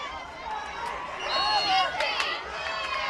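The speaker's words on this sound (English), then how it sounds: "Definitely getting rowdy here in the stands" A rowdy crowd in the stands at a high school girls lacrosse game, chattering and shouting with whistles and calls swelling midway, heard under a commentator's talk.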